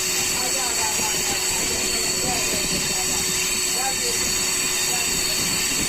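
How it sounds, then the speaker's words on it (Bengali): A local train rattling along a curving line between Howrah and Amta, a loud steady rumble with clattering wheels and thin squealing tones heard from inside the carriage. "আর প্রচণ্ড আওয়াজ হচ্ছে এখানে কিসের লাইন থেকে, লাইনটা বাঁক নিচ্ছে বলে সম্ভবত এই আওয়াজটা হচ্ছে।"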